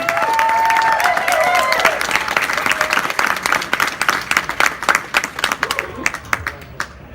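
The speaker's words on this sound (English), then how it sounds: "Round of applause for Larry!" Audience applause and cheering at a 2019 dance competition, loud and dense at first with a few shouts, then thinning into scattered claps that fade out.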